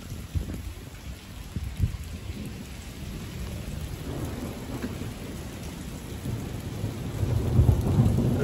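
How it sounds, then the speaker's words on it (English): A thunderstorm over the mountains at Skyforest, California, near Big Bear, with deep rolling thunder rumbling continuously beneath steady rain falling on surfaces, building louder toward the end. "Listen to the thunder."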